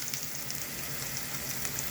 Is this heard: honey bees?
no